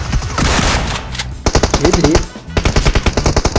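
Automatic weapon fire from the video game PUBG on the Sanhok map comes in loud, rapid bursts. A brief pause breaks them, then more fast rattling volleys follow, and a voice speaks briefly over the shots.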